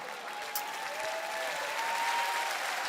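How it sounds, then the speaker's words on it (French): An audience at a live comedy and magic show breaks into sustained, dense applause with faint crowd murmur, steady and full for about three seconds. "Un tonnerre d'applaudissements pour Ginette!"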